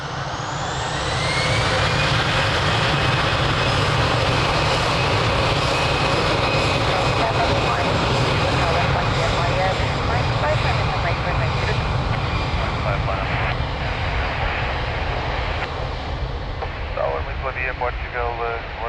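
A jet airliner takes off at night from runway 02 at Lisbon Airport, a loud sustained engine roar building and holding for the whole stretch, with radio voices from the control tower faintly over it.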